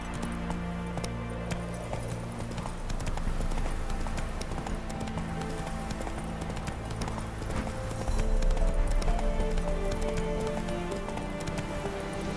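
A horse galloping in the Witcher 3 video game, its hooves beating a rapid, steady clip-clop throughout under a layered game soundtrack and ambience, with no talk.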